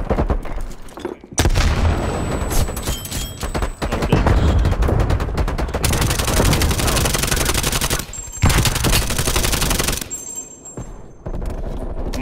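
AK74u gunfire in Call of Duty Black Ops Cold War team deathmatch, loud rapid automatic bursts with short pauses between strings, mixed with other game effects.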